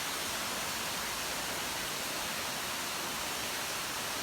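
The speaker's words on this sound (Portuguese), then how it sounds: "Olha essa cachoeira que incrível!" Erva Doce waterfall in Sengés, Paraná, a canyon cascade, pours as a steady, dense broadband roar that stays even throughout, loud and close with no other sounds.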